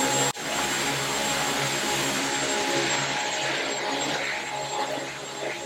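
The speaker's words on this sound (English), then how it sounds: "why it's important to vacuum them before you guys wash them" A vacuum cleaner runs over Ruggable rugs in a kitchen, a steady, loud, close whirring drone that begins just after a brief thump and holds without a break.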